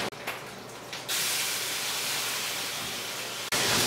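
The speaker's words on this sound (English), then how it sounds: "I put the garlic down in the pork fat. It's going to take some of the harshness off of it if I let it just sizzle for a couple of seconds." Garlic sizzling in hot pork fat in a pan, a loud, bright, continuous hiss that jumps up sharply as the garlic goes in and holds steady for several seconds, close and without talk.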